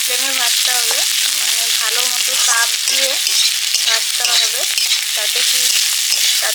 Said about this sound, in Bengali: সবজিটা সুন্দর ভাজা হবে কিন্তু সবজি থেকে জলটা বেরোবে না